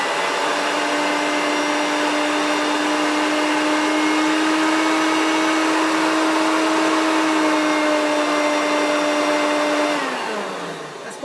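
A Hoover Turbomaster vacuum cleaner motor running on its minimum setting gives a loud, steady whine with a constant drone, then winds down near the end as it is switched off.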